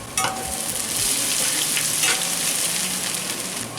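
Onion and chopped ginger frying in a pan for bhuna chicken, a loud continuous sizzle with spatula strokes stirring and scraping throughout, no voices.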